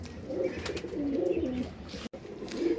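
High-flyer pigeons in a farm loft in Jessore, Bangladesh, cooing steadily in low, rolling murmurs, several birds close by against a busy, slightly noisy background.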